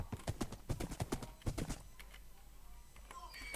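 Hooves of a donkey in the Minecraft video game clop in a quick, close run of steps that ends after under two seconds, followed by quieter game ambience with faint clicks.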